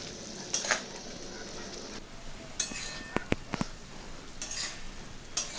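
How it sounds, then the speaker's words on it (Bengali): Potatoes and greens with turmeric stirred in a frying pan for a Bengali lau data chochchori, a soft steady sizzle broken by scraping strokes and a few sharp clinks of the spatula against the pan, close and without speech. "নেড়ে নিচ্ছি"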